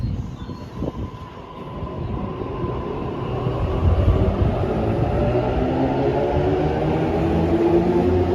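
A Sydney Metro train running between Epping and Chatswood, its steady low rumble and hum of wheels on rail growing slightly louder and carrying on without a break throughout.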